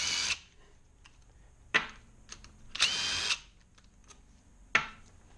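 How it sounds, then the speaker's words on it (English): Several short bursts from a DeWalt cordless impact driver removing starter motor bolts on a Kawasaki KLR 650 engine, each whirring rattle close and loud, separated by quiet pauses, with no talking. "DeWalt impact driver, what a piece of kit."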